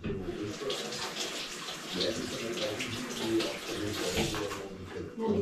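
A white chocolate mocha coffee drink leaks from a hole in its cup, giving a continuous close watery trickle and splatter that runs unbroken throughout with slight swells in level.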